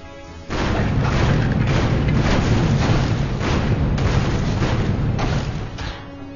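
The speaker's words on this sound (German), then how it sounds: "Alles einzelne kleine Explosionschen." Small explosions in the video game LEGO Pirates of the Caribbean rumble as a dense, continuous series of booming thuds, loud and close, carrying on without pause for several seconds with no talk.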